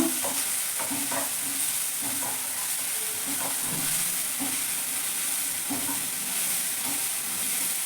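Chopped onion and green chilli fry in a pan for a veg momo filling, giving a loud, steady sizzle with repeated soft stirring scrapes and no talking.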